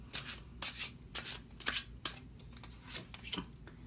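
Tarot cards being shuffled and drawn by hand, a string of close, crisp riffling and sliding bursts in an irregular rhythm, quiet and without talk.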